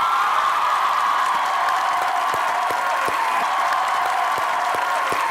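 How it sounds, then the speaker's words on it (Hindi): Studio audience applause on a Pakistani comedy talk show fills the space as a continuous wash of clapping, with occasional sharper claps standing out from the crowd throughout. "आपकी भरपूर तालियों में"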